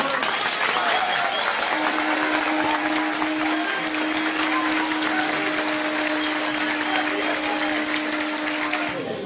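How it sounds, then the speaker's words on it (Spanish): An audience at a political gathering in Peru applauds steadily for about nine seconds, a dense wash of clapping with crowd murmur and a steady hum running underneath. "un aplauso para los dos días."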